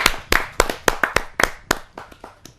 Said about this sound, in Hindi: ऐसे अनूठे कवि को मैं जोरदार तालियों के साथ अभिनंदन करते हुए स्वागत करता हूं